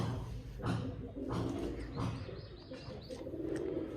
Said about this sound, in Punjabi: ਲੋ ਜੀ ਮਿੱਤਰੋ ਕਬੂਤਰ ਆ ਗਏ